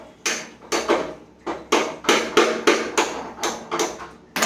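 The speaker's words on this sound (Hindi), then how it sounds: "और मैगी बनाने से पहले मैं करूंगा गैस ऑन।" A gas stove being switched on while making Maggi noodles: about a dozen sharp, bright ignition clicks in a fairly steady rhythm, close and fairly loud, with no talking.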